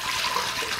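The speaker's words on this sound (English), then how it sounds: "So pour in the water. That's 3 cups" Water poured into an Instant Pot for sage mashed potatoes, three cups going in as a steady, close hissing splash that runs unbroken through the whole brief moment with no voices.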